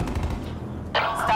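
Gunfire from shooters in the Call of Duty: Black Ops 4 game, a few loud close shots with a rumbling tail, then a bright crackling burst near the end, under a voice.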